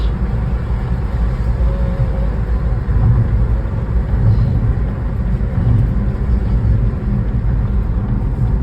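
Steady road traffic along a seaside road near Salacık, Trabzon, on a busy weekend: a continuous low rumble and whir of passing cars, moderately loud and unbroken, with no talk.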